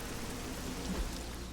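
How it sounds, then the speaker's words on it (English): Rain falling in the video game Midnight Suns, a steady soft hiss of drops with no other sounds. "Oh, it's raining."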